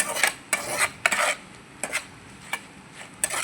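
A metal spoon scrapes and clinks around a cooking pan as chili powder and cumin are stirred over low heat, in short repeated bursts with pauses between strokes.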